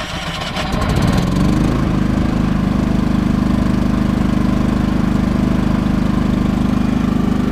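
A Champion 3100/2800 portable generator turns over briefly and catches, then settles into a steady, loud, close running drone that holds to the end without any talk.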